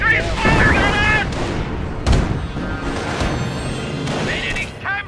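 Infantry gunfire in the Company of Heroes video game: loud, dense bursts of shots and booming blasts mixed with game voices, one sharp heavy report standing out midway.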